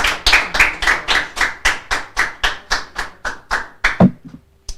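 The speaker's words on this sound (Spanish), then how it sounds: "dale un fuerte aplauso al Rey de Reyes y Señor de Señores" A church congregation claps together in a strong, steady rhythm, about four claps per second, loud and close, with no voices over it, before stopping abruptly with a final heavy clap and a brief tail.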